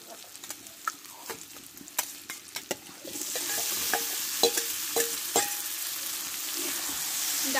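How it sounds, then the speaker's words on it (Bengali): A utensil knocks and scrapes around a pan with sharp, irregular taps as boiled chana dal is stirred into fried spices and potatoes, then a louder, sustained sizzle rises near the end. "ডালটা দিয়ে একটু ভালো করে নাড়াচাড়া করে নেব"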